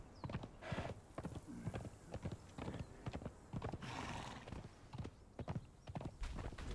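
Steady clip-clop of horse hooves from a ridden horse in the game Conan Exiles, a fast continuous gallop rhythm, close and fairly loud, with a whinny-like burst midway and no talk over it.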